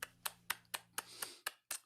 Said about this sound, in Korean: 이 시간 하나님께 영광의 박수 올려드리겠습니다.